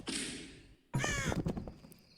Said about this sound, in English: How strange, these crows seem unusually menacing.